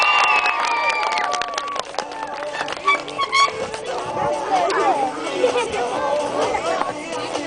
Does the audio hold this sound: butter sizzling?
no